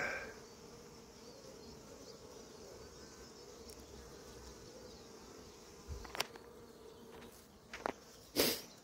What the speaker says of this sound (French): Il y a beaucoup d'abeilles qui volent, hein.